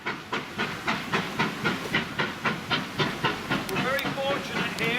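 A steam locomotive on the West Somerset Railway chuffs in a regular, pulsing beat with hissing exhaust, fairly close, with a brief squeal near the end and faint talk underneath.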